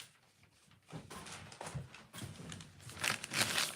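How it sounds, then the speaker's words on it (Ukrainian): A plastic bag crinkles and rustles up close in short bursts, growing louder toward the end, with no talking. "її запакую в пакет"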